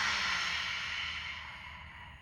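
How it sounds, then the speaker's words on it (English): A long, breathy exhalation during a yoga lion's breath exercise, loud at first and slowly fading over about two seconds. "And breathe out."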